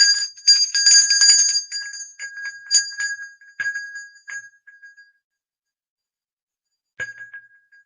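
A small handheld bell rung repeatedly indoors, bright ringing strikes that overlap and decay, then fade to silence before one final ring; near and fairly loud, with no talking.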